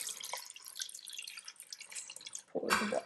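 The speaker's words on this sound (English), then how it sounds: "pour the water again." Water poured into an Instant Pot while making spaghetti with marinara sauce, a steady trickling and dripping stream that ends with a louder, fuller splash near the close.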